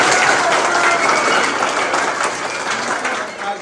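An audience at a school math knowledge quiz claps for the host: dense, loud applause of many hands that carries through steadily and eases off slightly near the end.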